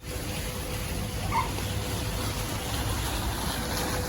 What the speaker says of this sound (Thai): ทางนี้เป็นน้ำตกนะคะ